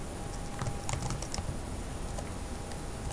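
Keys clatter on a computer keyboard in quick, light, close taps with small bursts and pauses, over a faint steady background hiss.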